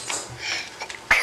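A single sharp sneeze bursts out near the end, after a stretch of quiet murmuring and faint voices nearby.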